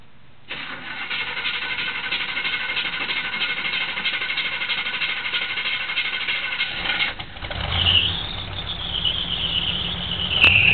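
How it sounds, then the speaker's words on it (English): A 1984 GMC truck engine with a dead cylinder from a botched firing order after a tune-up cranks and catches, then runs with a steady, rough mechanical roar close by, no voices. "I got a dead cylinder."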